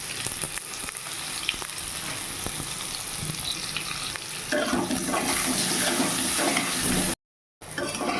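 Potato pieces fry in hot oil with a little turmeric, giving a continuous crackling sizzle. It swells louder and fuller partway through, then cuts out for a short moment before resuming.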